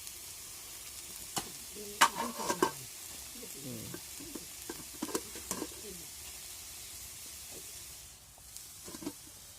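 Red amaranth greens stir-fried in a pan, with a low steady sizzle and intermittent scraping and stirring strokes close by, bunched mostly in the first half and fading toward the end.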